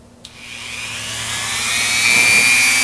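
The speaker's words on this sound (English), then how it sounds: "we're going to take the Dremel tool and just kind of work around it some" A Dremel rotary tool grinding at the damaged threads of a bolt, starting with a click and spinning up into a loud, steady high-pitched whine that climbs slightly as it bites into the metal.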